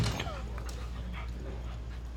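Several dogs play together close by, with quick panting breaths and small yips and whimpers, while a person talks quietly in the background.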